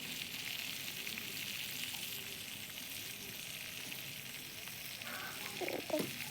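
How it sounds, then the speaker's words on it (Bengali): Steady low hiss of food cooking in a pot, a continuous gentle sizzle with a couple of brief clinks near the end. "কিরকম বুলবুটি উঠছে, ফুটছে, লাল লাল হয়ে যাবে।"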